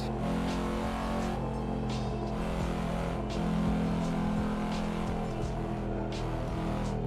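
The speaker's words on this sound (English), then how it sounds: "I am driving, right? And cutting traffic here in the game." A car in a video game drives through traffic with a continuous engine drone that swells and eases slightly as it accelerates, steady and close with no talking.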